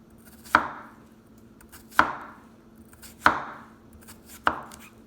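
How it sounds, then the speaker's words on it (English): A knife slices peeled cucumbers into even circles on a cutting board. Four crisp, separate thuds land about a second apart, close and clear against a quiet background. "Next, you want to slice the cucumbers in even circles."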